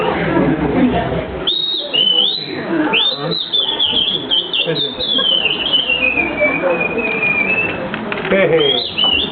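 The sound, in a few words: person imitating a robin's call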